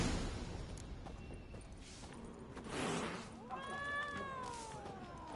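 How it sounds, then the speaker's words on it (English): Cat in the video game The Witcher 3: Wild Hunt, a faint low hiss followed by a rising, wavering meow near the end, set against quiet ambient background. "Is that cat hissing at me?"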